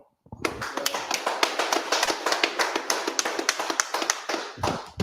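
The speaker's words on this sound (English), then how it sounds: "let everybody clap it up" A crowd at a memorial blowing of the trumpets gathering claps in a dense, rapid burst of close hand claps that runs steadily, pauses briefly, and then restarts.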